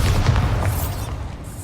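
A Bombarda explosion spell going off in Hogwarts Legacy, a loud low rumbling boom that rolls on and slowly fades over under two seconds, with no voices.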